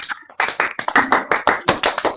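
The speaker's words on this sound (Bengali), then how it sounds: "সবাই হাততালি দাও একটা।" A group of children clap their hands together in a lively burst of applause, dense and close, with quick uneven claps running for about two seconds.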